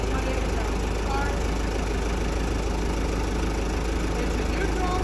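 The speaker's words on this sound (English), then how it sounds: "And I will turn my tractor on." A tractor engine idles steadily with a deep, constant low rumble and a dense mechanical knock that continues without a break, loud and close throughout.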